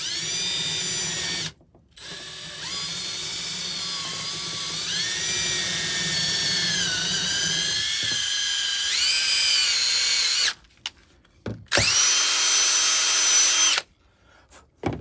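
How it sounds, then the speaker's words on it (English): A power drill with a 3/16 bit whines as it bores straight through a bat near the bottom, a long steady run with pitch dips under load, then a brief second burst after a pause. "using that 3/16 bit, because the 550 cord will fit straight through there"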